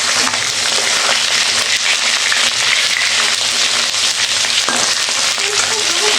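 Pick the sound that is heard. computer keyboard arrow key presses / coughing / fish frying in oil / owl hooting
fish frying in oil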